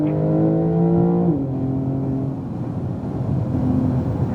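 A 2018 Porsche 911 Turbo S engine accelerates hard on a race track, a loud, close droning roar whose pitch climbs, drops at a gear change, then pulls steadily again.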